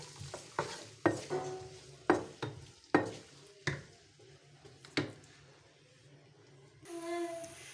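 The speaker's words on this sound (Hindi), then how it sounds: "अब प्याज डाल दिया है। अब इसे पहले भून लेते हैं।" Onion frying in a pan as it is stirred: a faint sizzle under repeated scraping clinks of a spoon against the pan at a steady rhythm, then a brief louder sizzle at the end.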